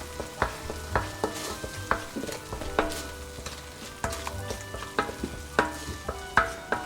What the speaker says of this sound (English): We add our sweet chili. We saute it again.